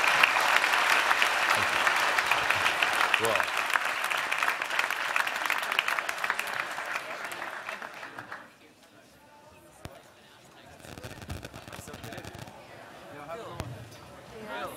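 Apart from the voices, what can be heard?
audience applause for guest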